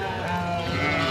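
A goat bleats amid the steady din of a busy goat and sheep market in João Alfredo, Pernambuco, a continuous, moderately loud animal cry over crowd noise.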